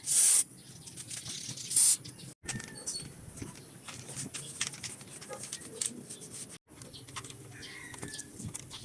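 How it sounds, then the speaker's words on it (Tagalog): Belt dressing spray is applied to the timing belt of a 2015 Chevrolet Trailblazer in short, sharp aerosol bursts near the start, followed by a steady hiss that runs throughout and cuts out briefly twice. "Huwag nating kalimutan yung belt dressing spray."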